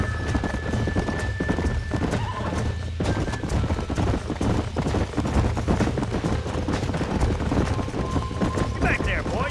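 Horse hooves clip-clop steadily and close in Red Dead Redemption on Xbox Series S, with a brief whinny. The gallop runs the whole time over dense game ambience, with voices faint underneath.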